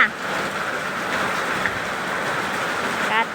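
Steady rain hissing down on a surface, a continuous wash of sound with a brief voice near the end.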